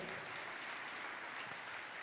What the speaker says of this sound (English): we can put our hands together for Eliud Kipchoge